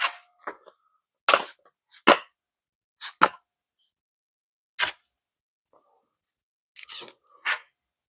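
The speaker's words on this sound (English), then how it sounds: "We'll just grab a little bit of cleaner, mist it a little bit." Spray bottle misting cleaner onto a small engine cylinder and cylinder head, heard as about eight short, sharp hissing spritzes spaced unevenly, some in quick pairs, close and clear against silence.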